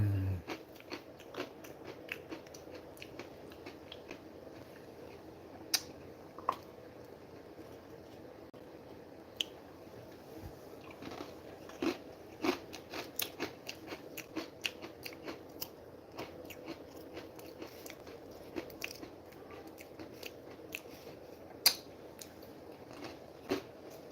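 Soft, close chewing and biting of hummus, with quiet wet crunches and squishy clicks scattered irregularly over a low background.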